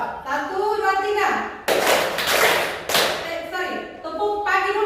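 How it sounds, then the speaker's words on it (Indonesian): A classroom of students claps the 'tepuk pagi' morning clap pattern in two dense bursts of many hands, with a teacher speaking before and after. "Tepuk pagi dulu ya. Tepuk pagi."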